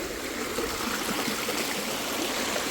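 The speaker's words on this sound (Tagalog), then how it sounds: "ganitong ilog sa amin pero mas malaki ang ilog sa amin" A small river stream runs through a campsite at a tree farm in Bailen, Cavite, its close, continuous rushing and trickling steady and fairly loud throughout, with no talking.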